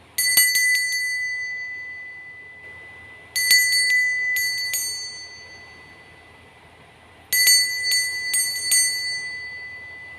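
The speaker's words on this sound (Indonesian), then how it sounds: "Kita akan memulai dengan ditandai lonceng berbunyi." A small metal bell rings bright and clear in three separate bursts, each a quick cluster of several dings with ringing tails, alone with no talk.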